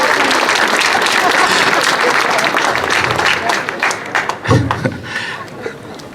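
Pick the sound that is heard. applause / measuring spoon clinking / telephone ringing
applause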